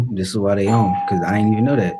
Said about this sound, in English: All right, that's the doorbell.